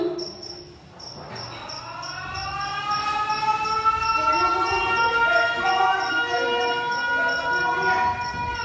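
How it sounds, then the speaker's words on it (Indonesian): An air raid siren gives a long rising, wailing tone that swells and holds steady for several seconds, loud and sustained, with a faint high tone running underneath. "Dan bila mana terdengar sebuah sirene"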